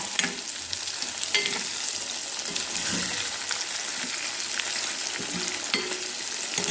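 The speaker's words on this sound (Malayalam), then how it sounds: "ഇനി നമുക്ക് ഇത് തിരിച്ചും മറിച്ചിട്ടിട്ട് അങ്ങനെ ഫ്രൈ ചെയ്തെടുക്കാം കേട്ടോ" Bitter gourd pieces frying in an iron pan while being turned, a bright, steady sizzle with intermittent scraping and clatter of the spatula, close up and without talk.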